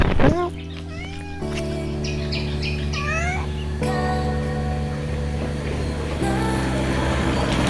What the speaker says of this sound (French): Petit chat.